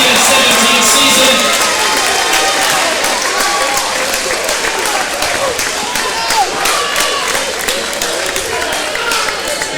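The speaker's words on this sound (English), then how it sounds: "let's give a big round of applause to our Raiders." Loud, dense applause and cheering from a large gym crowd honoring a high school basketball team and its coach at season's end, steady throughout with scattered shouts and voices mixed in.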